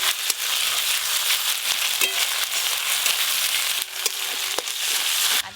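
Chopped onion and ginger-garlic paste sizzle in mustard oil with panch phoron tempering, a loud, steady frying hiss with a few brief clinks of a utensil against the pan.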